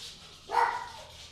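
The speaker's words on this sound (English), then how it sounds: "I'm going to try to keep my dog a little bit quiet" A single dog bark, one short sharp yelp heard indoors at moderate distance over quiet room tone.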